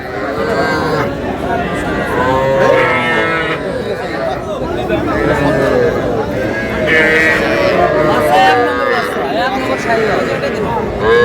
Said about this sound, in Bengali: এই মেজবাউল ভাই, দেন গরু ছেড়ে দেন